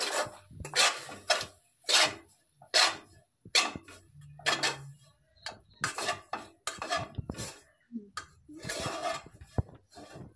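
Pitha dough is stirred in a pan while carrot water is added, producing rhythmic scraping strokes of a spoon against the pan in short repeated bursts with brief pauses between them and no talking.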